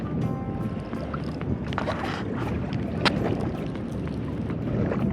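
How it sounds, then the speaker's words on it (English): Wind gusts across a fishing boat on the Potomac River, making a steady broadband rush and buffeting with water lapping against the hull and a few light knocks, close and continuous. "This wind is making it hard to sit where I want to sit"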